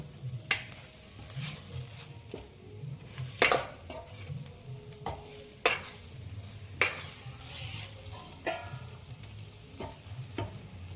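Brinjal (eggplant) pieces frying in a pan are stirred, giving a quiet steady sizzle broken by sharp clacks and scrapes of a utensil against the pan, with no talk.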